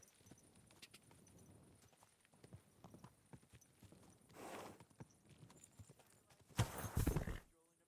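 A horse in the medieval video game Kingdom Come 2 clip-clops in quick steady hoofbeats, with a louder snort or whinny near the end while someone talks.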